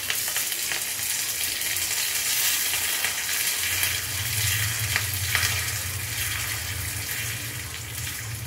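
Mustard seeds and curry leaves sizzle and crackle in hot oil while tempering Mysore rasam, a steady close hiss with scattered pops throughout.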